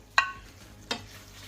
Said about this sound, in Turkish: Şöyle son bir kez karıştırıyoruz.